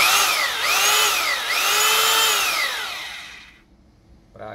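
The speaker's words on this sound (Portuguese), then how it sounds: "Ele aqui tá na função furadeira" A used Bosch GBH 2-24D rotary hammer, 220 V and 820 W, runs in drill-only mode with a loud, steady high whine that swoops up and down in pitch, then winds down and stops, with no talk over it.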